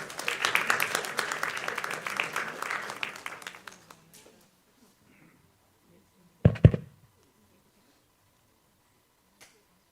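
Applause at a school graduation ceremony as a student is welcomed, a busy burst of many hands clapping that fades out after about four seconds, followed by a couple of sharp isolated knocks and near silence.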